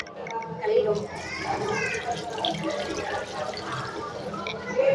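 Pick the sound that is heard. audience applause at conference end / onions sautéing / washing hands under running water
washing hands under running water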